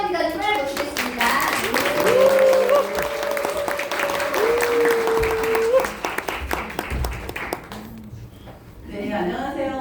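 An audience claps in welcome for a speaker at a gathering, a dense sustained round of applause that fades out near the end, with a voice and a brief tone heard over it.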